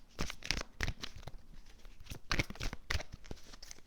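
A tarot card is drawn and laid down with a series of close, sharp papery snaps and crinkles that come in quick irregular bursts, with nobody speaking.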